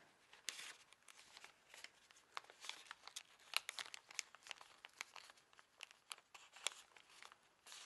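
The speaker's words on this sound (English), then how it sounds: "And now we're just going to fold this flap" Paper being folded on a handmade Easter bunny pop-up card, with soft close crinkles and creasing rustles in quick irregular bursts, quiet and without talk.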